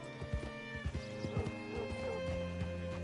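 Horse in Red Dead Redemption 2 clip-clopping to a halt with a few close hoof thuds, then a whinny over a soft musical background.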